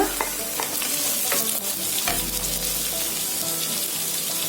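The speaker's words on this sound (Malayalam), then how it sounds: "ഇനി നമുക്കിതിലേക്ക് അരിഞ്ഞു വെച്ചിരിക്കുന്ന സവാള ചേർത്ത് കൊടുക്കാം." Chopped onions sizzle loudly in a pan with spices for a Kerala mutton roast, a dense continuous frying hiss close up, broken by a few stirring scrapes; no talking.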